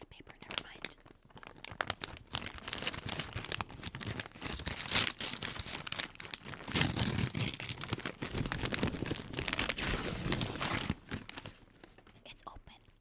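A paper, envelope-like package with a plastic bag inside is torn open: crinkling, crumpling and ripping rustle continuously and close up, with soft spoken and whispered talk throughout.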